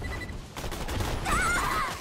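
Bursts of gunfire from a first-person shooter video game, Borderlands 2, rattle across a couple of seconds as a player shoots and misses, loud and close with a faint voice mixed in.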